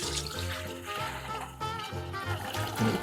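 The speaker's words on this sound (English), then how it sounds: "I'm going to take the rest of my broth and just strain it through a strainer" Strained broth for Cajun boudin pours steadily through a strainer, a continuous liquid splash and trickle lasting about three seconds over a tonal musical background.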